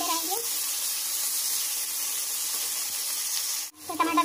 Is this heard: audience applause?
no